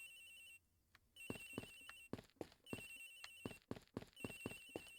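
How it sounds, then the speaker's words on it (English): A telephone ringing in the Ace Attorney Investigations video game, repeated bright electronic trills in bursts separated by short gaps, clear and close, with no talk over it. "Agent Hicks's phone. It's ringing from somewhere, sir."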